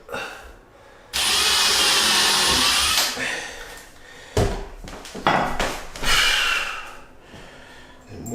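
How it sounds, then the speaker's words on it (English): A power drill drives screws into a hardwood door while fitting a rim lock: a long, loud whirring run, then shorter bursts of drilling with handling knocks and pauses between them. "So we can do that with a drill."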